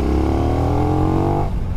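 A 2020 KTM Duke R motorcycle in third gear at about 3,000 rpm with the throttle opened, a loud, close, steady engine drone with rising harmonics that cuts off abruptly near the end.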